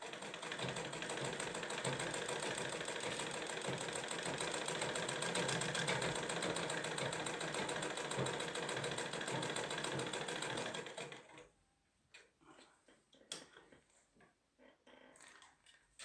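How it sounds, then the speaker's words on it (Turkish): A Beko black-head manual foot-pedal sewing machine stitches jersey fabric in a steady, loud mechanical whir for about eleven seconds, then stops, leaving faint clicks and handling noises. "Yerleştiriyoruz makinenin altına kumaşı. İndiriyoruz baskı ayağını. Başlıyoruz dikmeye."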